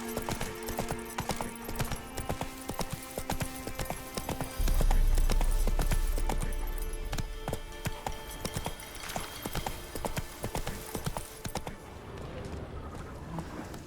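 Roach, the horse in The Witcher 3, trots along with a steady clip-clop of hooves, close and rhythmic, mixed with a brief louder rumble partway through and light background game sounds.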